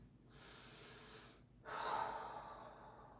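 Deep breathing during a yoga pose: a long, steady inhale followed by a brief pause, then a stronger, fuller exhale, close and alone with no talking.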